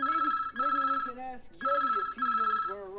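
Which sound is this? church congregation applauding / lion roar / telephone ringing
telephone ringing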